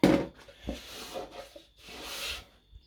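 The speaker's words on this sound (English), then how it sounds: "run the knife up and down it" A utility knife scrapes along a cut plasterboard edge, giving a few short, dry rasping strokes up and down at close range with quiet pauses between them.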